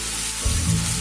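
Chopped leftover idli is stir-fried in a pan over a medium flame, giving a brief, steady hiss of sizzling oil with a soft thump of stirring partway through.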